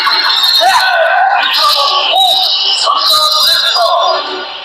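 A video game creature lets out a series of shrill, wavering screams, loud and up close, repeating in rapid bursts over a few seconds before tailing off.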